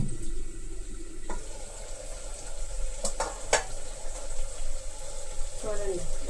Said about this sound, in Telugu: 3 కప్పులు రైస్ కాబట్టి 3 గ్లాసులు వాటర్ వేసుకుందాం